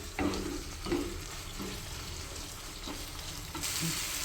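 Cooked chicken is added to a hot pan and fried for a chicken roast: a continuous soft sizzle with several scraping stir strokes at irregular intervals, close by and without talk.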